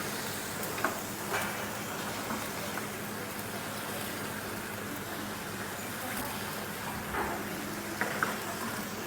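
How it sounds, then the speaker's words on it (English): Food searing in oil in a pan, a steady soft hiss that runs the whole time with a few faint clicks and knocks of utensils, all fairly quiet. "So you just let the pan chill around with the oil so they can sear nicely."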